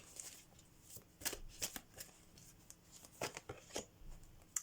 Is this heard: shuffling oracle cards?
yes